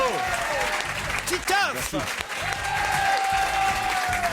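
Studio audience applause on a French radio-TV talk show, loud and sustained, with a host's voice and whistling-like tones running over it throughout.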